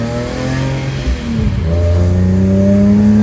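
A BMW E46 M3 engine, not cold, revs up from idle, the pitch climbing steadily and holding a loud, close, sustained roar for a few seconds with no one speaking.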